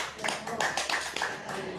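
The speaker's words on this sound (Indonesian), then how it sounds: "Tepuk tangan." Scattered clapping from an audience at a spoken religious gathering, a few seconds of uneven claps under faint voices, fairly quiet and distant.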